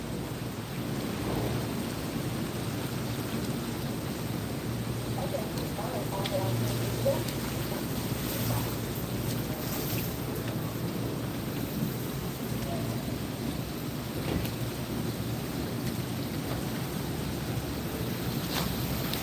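Heavy rain pours steadily during Hurricane Helene in Tampa, Florida, a dense constant hiss with faint rumbles of thunder, a few distant knocks and brief vocal sounds over the storm.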